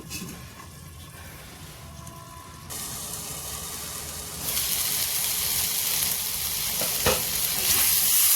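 Potatoes cooking on a low flame in a covered pan give a soft, steady sizzle that grows louder in stages, with a sharp click partway through and no voices.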